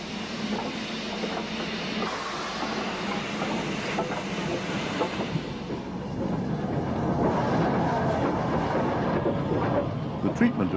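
Steam banking locomotives working the Lickey Incline in 1958, a steady rumble with rolling wheel clatter and hiss that swells louder toward the end.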